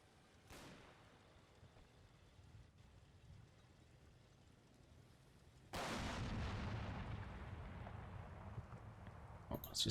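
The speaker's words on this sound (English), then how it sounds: "It's just Stug firing in anger." A StuG assault gun fires in the Combat Mission: Battle for Normandy video game, a single loud blast about midway that cuts in and leaves a sustained rumbling roar, preceded by a fainter distant crack.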